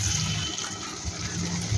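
A small bowl of water is poured into masala cooking in a pan for Punjabi paneer bhurji, giving a steady gushing, sizzling wash of liquid that runs continuously and fairly loud, with no speech.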